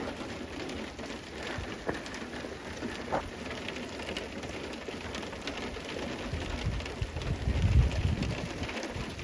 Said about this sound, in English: That is sleet.